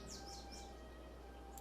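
A bird call in the Sherlock Holmes vs Arsene Lupin video game gives a few quick, faint chirping whistles over a quiet, humming game background with no voices.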